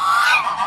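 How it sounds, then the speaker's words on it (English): A goose at a farm animal refuge gives one short, loud, nasal honk from close range. "And then we got geese over here."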